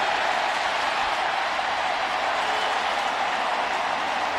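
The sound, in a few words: roar of stadium crowd at football game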